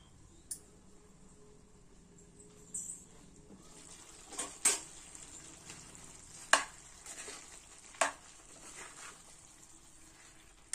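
Chicken curry cooks in a pot over low heat with a faint, steady sizzle. Occasional sharp clinks of the pot or utensils come through, and it stays quiet and close throughout.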